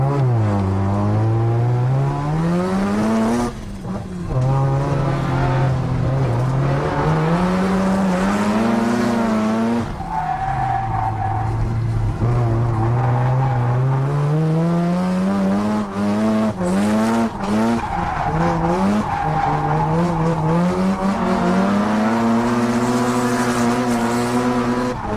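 A turbocharged Mazda RX-7 drifts along a mountain road, its engine wailing and rising and falling in pitch under long, loud tire squeals and skids.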